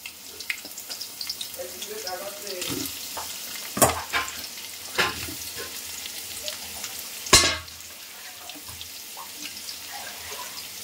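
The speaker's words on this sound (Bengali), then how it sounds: "এবারে পেঁয়াজটা ভেজে নেব।" Onions sizzle in a pan for a mutton curry, a low steady frying hiss under a few sharp clanks and knocks of utensils, with some running-water noise nearby.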